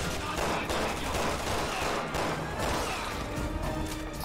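Dense, continuous gunfire from the Resident Evil 6 video game, in the Chris campaign: rapid overlapping shots and bursts, loud and close, sustained for the whole stretch with no pauses.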